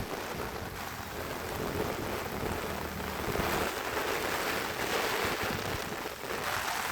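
Heavy monsoon rain pours during the Ulhas River flood at Karjat, a dense continuous roar of rushing water and rainfall that stays loud and steady throughout, with no voices.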